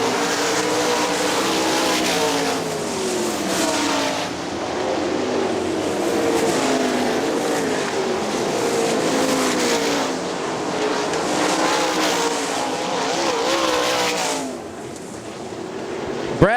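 Sprint cars racing at Hartford Speedway Park in a Great Lakes Outlaw Sprint Series event, loud engines howling and rising in pitch as cars pass and rev, with the field's roar fading toward the end.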